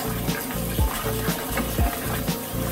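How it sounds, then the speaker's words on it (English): Strawberries being rinsed in a bowl of cool water, with close swishing and sloshing splashes repeating every half second or so over a steady watery background. "And rinse our strawberries."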